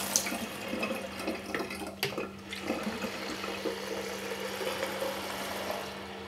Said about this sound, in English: fill it up with hand hot water from the tap